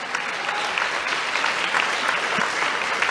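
A large audience claps steadily and loudly for Ho Chi Minh, the dense applause sustained throughout without a break.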